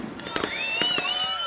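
Fireworks crackle and pop in a quick series of sharp bursts with a whistling streak rising through them, set against a faint background bed.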